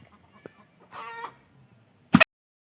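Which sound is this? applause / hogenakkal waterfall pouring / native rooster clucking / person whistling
native rooster clucking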